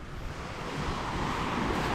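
Water washes against the shore beside a boat, a steady broadband wash that swells slightly over two seconds, with wind in the microphone and no voices.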